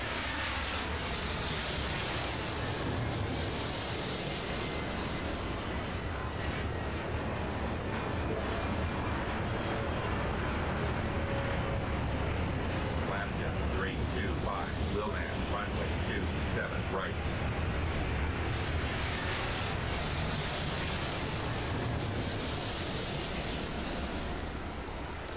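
A jet takes off in the airport control game Airport Madness with a long, continuous engine roar that swells, then fades, then swells again.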